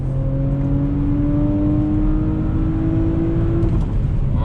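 A 2019 Audi RS5 accelerates hard on throttle in second gear, its engine note climbing steadily in pitch for several seconds before abruptly dropping off, loud and close with a continuous low rumble underneath.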